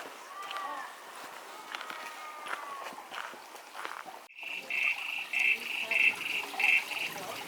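Several frogs call along the Six Foot Track near Bowtells Swing Bridge in short, bright, repeated croaks that get louder partway through, over faint rustling and soft background noise.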